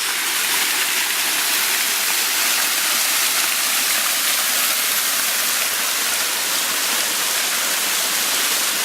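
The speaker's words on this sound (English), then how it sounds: "Pretty neat little waterfall waiting for us down at the bottom of these stairs." Small waterfall at the bottom of stairs on the Kaymoor Trail, a steady broadband rush of falling water that stays loud and even throughout, with no voices.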